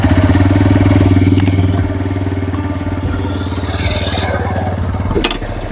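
A TVS Raider 125 motorcycle engine runs steadily at idle close by, a continuous low mechanical throb with light clatter, dipping slightly after a couple of seconds and continuing to the end.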